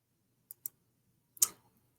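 Light ticking from an online word wheel spinning to pick a Wordle starting word: two quick soft clicks, a short pause, then a sharper tick with a brief fading rattle, close and clean against near silence.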